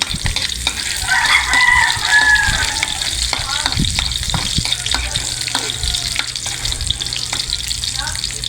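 Garlic sautés in hot cooking oil for a mung bean dish, crackling and sizzling loudly with stirring scrapes, while a rooster crows faintly in the background early on.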